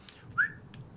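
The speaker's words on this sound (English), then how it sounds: "You can whistle better than that" A single short rising whistle in Assassin's Creed Origins, clear and fairly close over a low ambient rumble, alone without talk.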